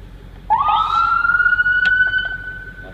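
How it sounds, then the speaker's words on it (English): An ambulance siren, triggered by the horn, rises from a sudden start into a loud, sustained wailing tone that climbs and then holds steady close by, with no voices over it. "as soon as you hit the horn, the siren's going to start by itself and it's going to continue to run."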